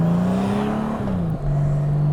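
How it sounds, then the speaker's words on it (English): An 1800cc Honda Goldwing motorcycle engine drones steadily and close by, its pitch rising slightly before dipping and settling, with no other sounds over it. "I usually take off by flexing the muscle of this 1800cc Honda Goldwing"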